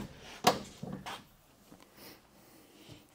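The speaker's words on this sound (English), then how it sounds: "Now they go open the back door." The rear door of a 1964 Chrysler New Yorker being worked open: a sharp mechanical clunk followed by a few softer knocks and rattles, faint and close, in a quiet space.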